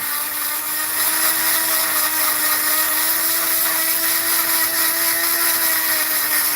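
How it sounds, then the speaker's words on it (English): A Dremel rotary tool grinds and smooths a rock such as opal or turquoise, giving a steady high-pitched whine with a faint tonal hum that holds constant and close for the whole stretch, with no talking. "So once you get the Dremel in your hand"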